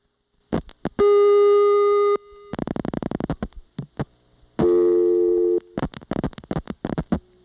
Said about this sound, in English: after the connection is made, you will hear the sender dialing 212